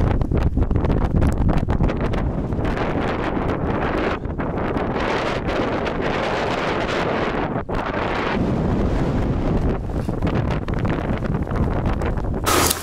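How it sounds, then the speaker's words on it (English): Strong wind during a sandstorm in Morocco buffets the microphone with loud, continuous roaring gusts that rise and dip without pause, close and harsh throughout. "Strong wind."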